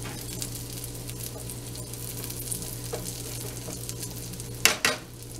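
Cajun shrimp fry in a single layer in a skillet, a steady sizzling hiss under a low hum, with a sudden loud clatter of a pan or utensil near the end.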